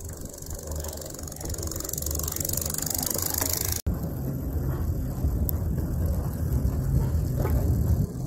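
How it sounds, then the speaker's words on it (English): A hoverboard wheel used as a wind turbine generator, its bearings failing, grinds and rattles continuously with a ratcheting, gear-like clatter, close up, with a brief break partway through. "And now if you hear this one, the bearings are going out on this next one too."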